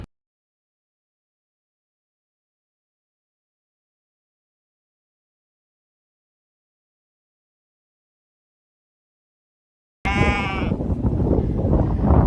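Sheep bleat up close after ten seconds of silence, a loud wavering cry rising over a rough, noisy outdoor backdrop, met while photographing a tower.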